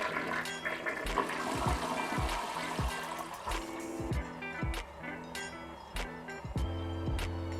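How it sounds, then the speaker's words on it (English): A toilet flushes away waste eco-friendly printer ink from an Epson SureColor garment printer, loud rushing water with repeated clunks and gurgles, then trickling refill, with no talking. "we just flush it down the toilet"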